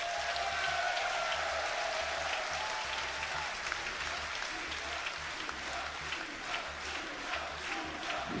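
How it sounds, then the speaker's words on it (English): A large arena crowd at the 2025 Yu-Gi-Oh! World Championship finals applauds and chants steadily without a break, the noise filling the whole stretch with a faint rhythmic pulse underneath. "Love to hear the chanting from the crowd."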